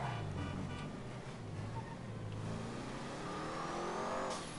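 Truffade Z-Type car engine in GTA V, a steady mid-pitched revving drone at speed with rising pitch toward the end, continuous and fairly close.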